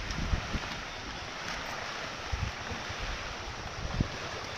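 Rough, choppy sea heard from the shore, a steady broad wash of surf with occasional louder wave thumps and wind buffeting the microphone; no talking.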